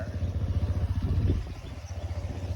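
An adventure motorcycle engine runs at a steady idle in Jorhat, giving a close, throbbing low rumble with a rapid pulsing beat that continues throughout without talk.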